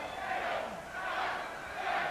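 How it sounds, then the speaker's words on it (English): A wrestling arena crowd roars and cheers in a sustained, swelling wave of massed voices, loud and continuous with slight rises and dips throughout. "And the crowd roaring and cheering with each shot."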